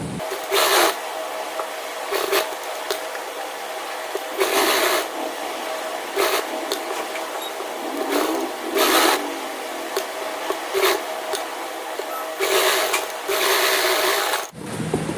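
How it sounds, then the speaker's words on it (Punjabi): Stitching a neckline onto fabric: close, whirring bursts of stitching start and stop repeatedly, separated by short pauses, with no speech. "ਫਿਰ ਆਪਾਂ ਨੇ ਸਲਾਈ ਲਗਾ ਦੇਣੀ ਆ"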